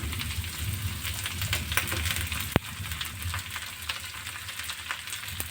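Long-cut eggplant slices frying with onions in a pan, turned with a metal spatula: a continuous close sizzle with one sharp tap of the spatula partway through, and no voices.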